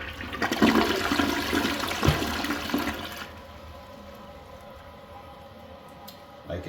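A household toilet with a flush tower flushes loudly and close up, a rushing swirl of water that peaks early and then settles into a quieter refill trickle.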